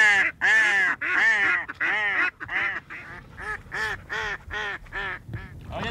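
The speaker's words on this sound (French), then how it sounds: "leur rôle consiste à attirer par leurs cris quelques congénères sauvages" Repeated loud decoy duck quacks in a steady series of harsh, nasal calls, close by, with no talking, in the Bay of Saint-Brieuc.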